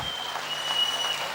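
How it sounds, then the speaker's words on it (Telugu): Crowd at a Vanabhojanalu picnic gathering applauding dance performers, a steady wash of many hands clapping at moderate distance, continuous and even throughout. "గట్టిగా చప్పట్లు."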